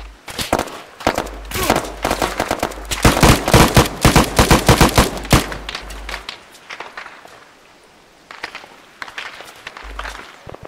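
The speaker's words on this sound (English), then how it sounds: "Because I was shooting to the southwest." Rapid gunfire from Arma 3 with the Antistasi mod on Altis, loud bursts of fast cracking shots clustered in the first six seconds, then quieter distant pops and a final short burst near the end.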